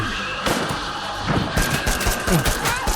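Gunfire in the video game State of Decay 2 on a hard Lethal zone mode, rapid bursts of shots cracking loudly over a busy game background, several clusters in quick succession.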